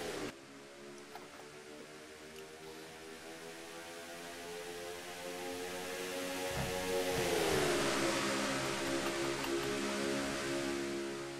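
Stock cars roaring around Michigan in a racing video game, a steady layered engine drone that swells louder as the pack accelerates, with no voices.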